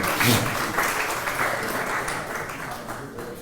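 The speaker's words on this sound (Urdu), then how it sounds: "بہت ساری تالیاں ہونی چاہیے مہنتی صاحب کے لیے" Audience applause at the grand ceremony of a social media workshop, a loud burst of many hands clapping that starts strong and slowly thins out over a few seconds.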